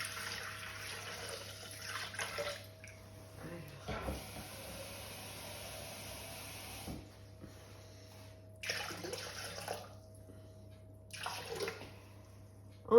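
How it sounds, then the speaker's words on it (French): Water pours into a Thermomix bowl as 700 g goes in, in several hissing, splashing bursts separated by pauses, with a steady hum underneath and brief clunks. "Donc là, je vais mettre mon eau. Alors, 700 g d'eau."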